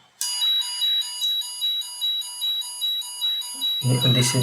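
A high electronic beep pulses in a steady repeating pattern for several seconds, then a short burst of a lower buzzing tone cuts in at the end.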